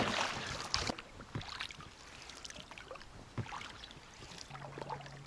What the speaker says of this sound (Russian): Я уже и веслами помогаю, не выключая мотор